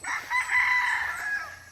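Rooster crowing on a family farm, one loud close crow held for under two seconds with no talk.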